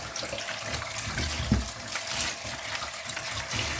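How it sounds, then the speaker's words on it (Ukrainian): Pickling cucumbers being rinsed under running tap water in a kitchen sink, a steady broadband gush of flowing water with faint splashing, close and continuous throughout. "Огірки треба ще один раз сполоснути під проточною водою"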